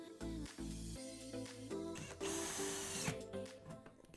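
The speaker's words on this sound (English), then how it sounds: "then I'll just screw through and to get the other two drywall screws in" A power drill drives drywall screws to mount a TV wall bracket, with short stop-start whirring bursts followed by a longer run, fairly quiet and close.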